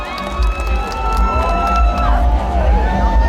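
Crowd at a provincial singing contest and anniversary celebration cheers and whoops loudly and continuously, with a busy mix of voices, shouts and music-like tones throughout.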